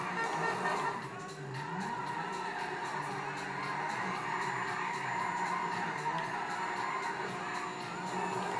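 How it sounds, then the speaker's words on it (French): Car in GTA V drifting and skidding at low speed, a steady, fairly faint tire squeal and engine drone running continuously over several seconds with a slight wavering pitch early on. "quand vous la roulez, elle n'est pas lancée à pleine vitesse, elle drift partout"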